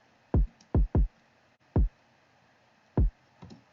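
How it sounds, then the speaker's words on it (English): Kick drum programmed in FL Studio with no plugins, six dry punchy thumps in an uneven bouncy pattern, two close together, each a short low boom that decays fast, alone in the mix. "this is the kick by itself without our plugins"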